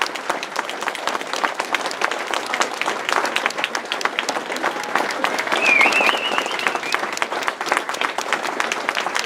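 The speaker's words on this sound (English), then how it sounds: "we can give her a round of applause" An audience at an Elks Vietnam Welcome Home Day event applauds steadily, a dense crowd of clapping hands at moderate volume, with a faint whistle or cheer rising briefly midway.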